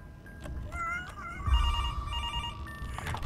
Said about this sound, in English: You have to answer the phone again?